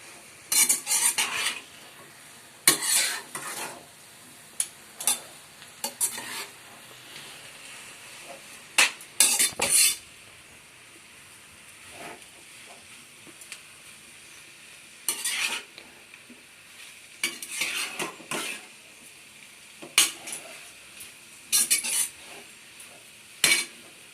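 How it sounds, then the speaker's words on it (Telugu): Noodles are stirred in a pan, with repeated bursts of metal scraping and clinking against the cookware over a low frying sizzle, separated by quieter pauses. No one speaks. "దీన్ని అయితే బాగా కలుపుకున్నాం"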